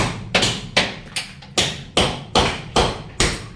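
Sharp, steady taps of a tool chipping a cement wall before tiling, about ten evenly spaced hits, loud and close, each with a short ringing decay, with no talk.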